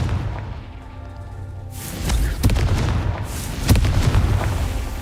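A Confringo fire spell explodes in the Hogwarts Legacy video game, landing as two loud booming blasts a second or so apart over a low rumbling game backdrop.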